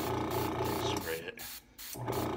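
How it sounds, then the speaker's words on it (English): Short bursts of spray paint hissing onto the base of a War of the Worlds spacecraft model, two or three close spurts separated by brief pauses, with a voice talking between them. "Okay, so let's spray the base."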